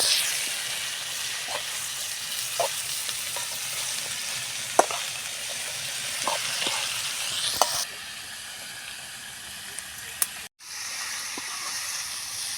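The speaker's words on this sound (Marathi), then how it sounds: "तर आता हे गवार आपल्याला सारखे हलवीत राहायचं आहे नाहीतर खाली बुडाला लागते" Cluster beans (gavar) stirred and fried dry without water in a pan, giving a steady close sizzle broken by scattered scraping clicks of the spoon; the frying hiss drops back partway through and briefly cuts out near the end.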